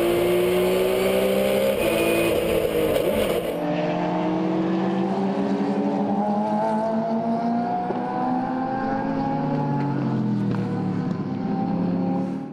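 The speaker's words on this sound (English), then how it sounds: "These GT cars are the fastest on the track." GT race cars at the Dubai 24 Hours, engines screaming loud and close as they pass and shift up through the gears, pitch climbing in overlapping whines, no talking.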